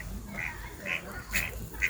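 Ducks in a park pond quack in a short rhythmic series of four nasal calls, fairly close, over a low background murmur.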